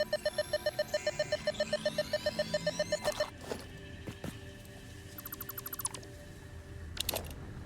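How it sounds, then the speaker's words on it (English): A mobile phone sounds a medication reminder alarm, a fast run of evenly spaced pulsing beeps for about three seconds, followed by fainter scattered tones and pulses mixed with other electronic sounds. "that's my phone vibrating to tell me that I need to"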